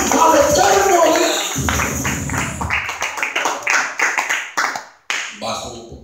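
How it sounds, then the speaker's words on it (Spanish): A church congregation claps along during a worship service, dense and steady at first under a voice, then thinning into scattered claps as a person keeps talking. "démosle palmas al eterno Dios"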